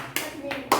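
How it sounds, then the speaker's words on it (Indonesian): Three separate hand claps ring out close by in a group activity session, each a short sharp slap with quiet pauses between. "tepuk tangan dulu semuanya"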